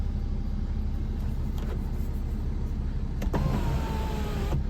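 Panoramic sunroof panels on a BMW X3 E83 3.0d diesel crossover motor open with a steady electric whine inside the cabin, over a constant low engine rumble, with a couple of clicks as the motors start and stop.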